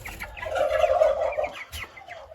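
A flock of chickens kept in a cage at a hatching setup clucks steadily and up close, with overlapping cackles and a few sharper calls, and no talk over them.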